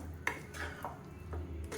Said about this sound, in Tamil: நல்லா கலந்து விட்டாச்சு